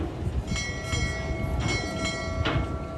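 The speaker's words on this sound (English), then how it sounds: "So it's not the flagpole making that noise, it's the cables." Cables on the Ice Breaker roller coaster at SeaWorld Orlando rattle and ring with metallic clanks and faint tonal squeals repeating irregularly over an outdoor rumble at moderate distance.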